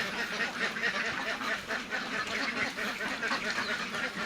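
Ducks on an egg-laying duck farm quack continuously as a dense, overlapping flock, with steady chatter close by and no pauses.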